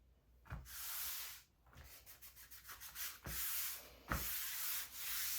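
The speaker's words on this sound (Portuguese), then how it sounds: "Então, vou polir mais em cima." Sanding and polishing a handmade Noah's ark craft piece, with repeated close rubbing strokes of varying length, some quick short passes and brief sharp knocks between them.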